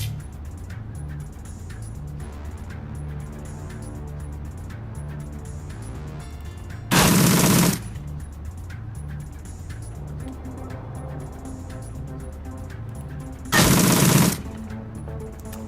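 Gunfire in the video game Shadowrun: Dragonfall: two loud, short bursts of shots, each lasting under a second and several seconds apart, over a steady rhythmic game music bed with no talking.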